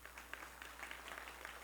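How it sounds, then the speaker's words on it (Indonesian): A church congregation at a Sunday service gives faint, distant applause, a soft steady patter of many hands clapping over a low hum. "Kasih tepuk tangan semuanya."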